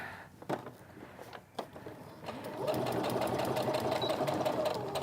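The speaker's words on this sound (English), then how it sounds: "now I'm going to sew all the way on lines in the line between 2, 5, and 6" A sewing machine stitches steadily along the lines of a paper-piecing pattern, its dense even whir starting partway through after a few handling knocks and running loud and continuous to the end.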